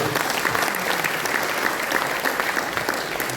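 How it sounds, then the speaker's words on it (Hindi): Dense audience clapping at a Hindi comic poetry gathering (hasya kavi sammelan) fills the whole stretch, a steady even roar of many hands from start to finish. "एक बार मुझे तालियां बजा के बताओ"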